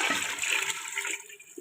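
Measured water pours into a pot of rice on the stove, a rushing, splashing gush that stays strong for about a second before thinning out toward the end.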